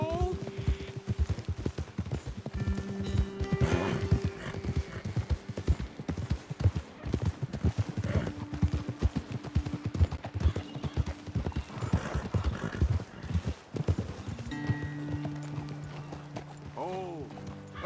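Horses walk steadily with close, continuous clip-clopping hooves, punctuated by occasional neighs and whinnies, while people talk intermittently over them.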